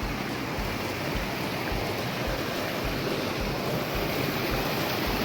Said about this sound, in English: there's the river that's formed from the spring